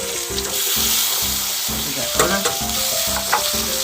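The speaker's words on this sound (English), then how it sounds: "We add some butter." Butter sizzling in a pan alongside pork chops, a loud, close frying hiss with a few clinks and stirring sounds, mixed with background music.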